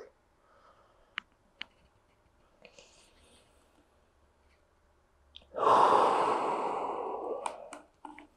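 A deep, breathy exhale during a leg-splits stretching session, rising suddenly after a quiet stretch with a few faint clicks and lasting about two seconds before fading out.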